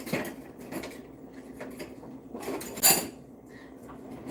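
Eggs whisked in a bowl for blueberry pancake batter: light clinking and scraping taps, irregular and fairly close, with one sharper clank near the middle, fairly quiet overall.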